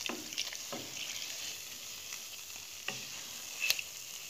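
Beignets frying in a pan of hot oil, a steady soft sizzle with a few sharper crackles and pops, close and fairly quiet, with no voices.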